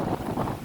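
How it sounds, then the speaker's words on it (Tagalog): Strong wind with crashing waves near a beach in Bahrain during bad weather, a steady close-up roar with gusty buffeting on the microphone. "kakusog ang hangin ug bawod"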